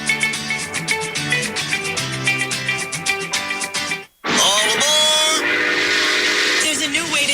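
A train whistle and hissing steam sound effect play in a radio advertisement, a loud sustained blast that breaks briefly and then returns with a strong steamy hiss, mixed with music.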